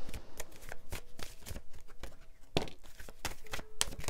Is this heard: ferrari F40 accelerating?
no